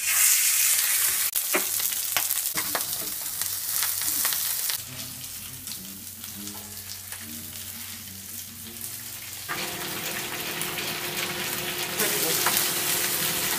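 Wild Alaska salmon sizzling in olive oil on a hot griddle, a steady bright crackle and hiss close up that swells again after the fish is flipped, with faint clatter of utensils.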